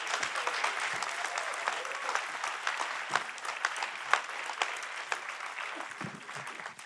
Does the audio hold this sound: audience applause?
yes